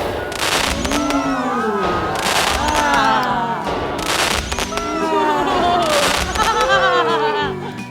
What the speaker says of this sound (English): Spoiler alert, they're actually fireworks.